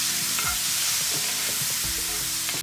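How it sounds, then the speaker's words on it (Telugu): Soaked toor dal sautéing in a pan with red chilies and curry leaves: a loud, continuous sizzle with a spatula scraping and stirring throughout. "ఇప్పుడు మనం ఆల్రెడీ నానబెట్టి పెట్టుకున్న కందిపప్పు వేసుకోవాలి. ఈ కందిపప్పుని 2-3 నిమిషాలు మగ్గనివ్వాలి."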